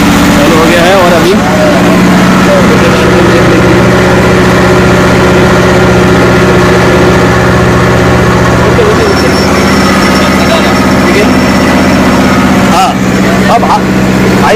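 A Kubota MU5501 2WD tractor engine runs at a steady, loud, close idle with a deep constant drone throughout, while people talk over it.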